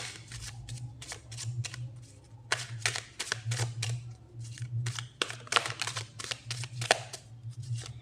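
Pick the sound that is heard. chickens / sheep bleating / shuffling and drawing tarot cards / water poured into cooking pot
shuffling and drawing tarot cards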